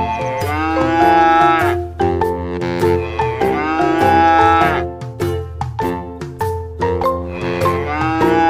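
An educational animal toy plays a cow's moo, a series of loud, drawn-out harmonic lows repeated several times with short gaps, clear and close with no talking.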